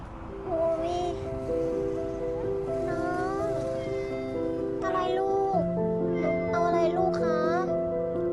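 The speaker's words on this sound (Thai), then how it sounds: "แล้วก็เป็นแมวอยู่แถวนั้นนะคะ" A cat with a long-broken leg, living around a seafood restaurant in Jomtien, meows repeatedly in drawn-out rising cries, close by, over a busy background of people chatting and ambient noise.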